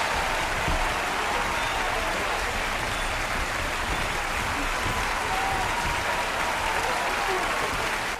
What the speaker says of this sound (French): sous le tonnerre d'applaudissements, une nuée de cris, de sifflements et de gens qui hurlaient mon nom